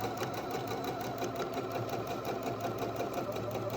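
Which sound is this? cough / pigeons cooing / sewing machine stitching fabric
sewing machine stitching fabric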